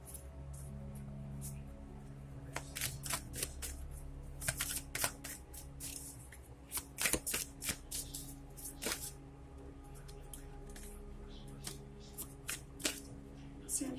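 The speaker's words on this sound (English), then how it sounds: "I feel called to shuffle these a little bit before I actually draw out the card." Nightmare Before Christmas tarot cards are shuffled by hand in a quiet room, giving a steady run of soft riffling snaps and papery slaps close to the microphone, with brief pauses between bursts.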